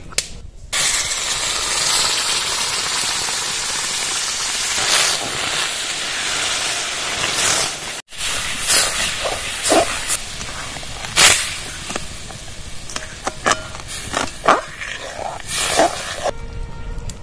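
Green mango pulp mixture poured into a pan of hot sugar caramel, giving a loud, steady hiss and sizzle that briefly cuts off, then returns as a rougher, bubbling sizzle with sharp pops and spits.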